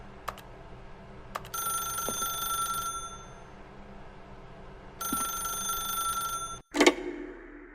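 A telephone rings inside the video game The Stanley Parable Ultra Deluxe, two electronic ring bursts spaced a few seconds apart over a quiet ambient hum, then a click as the receiver is picked up.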